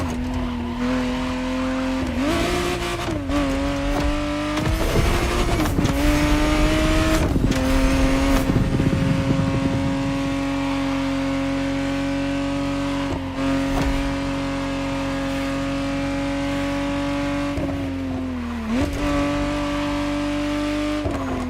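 A 1991 Ferrari Testarossa 512 TR in The Crew Motorfest, its engine droning loudly at steady revs with pitch rising and dropping through gear changes and tire squeals scraping in at moments, close and continuous.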